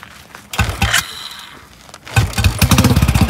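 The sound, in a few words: Royal Enfield Bullet motorcycle engine starting on choke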